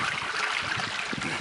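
A natural spring flows without any pump into a flower field, making a soft, steady trickle and gurgle of running water close by, with no voices.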